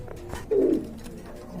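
Pigeons, including German-shape birds, coo with one low throaty burst near the middle, amid soft rustling and faint background cooing, fairly close and without talk.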